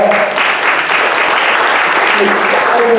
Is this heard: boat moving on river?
no